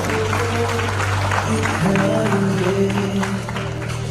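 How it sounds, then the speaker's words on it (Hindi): Applause from an audience at a NEET student awards function, a broad wash of clapping mixed with steady crowd murmur and a sustained musical tone underneath, moderately loud throughout. "तालियां बजाइए प्लीज"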